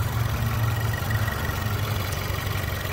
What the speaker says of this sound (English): Engine's running nice and smooth and healthy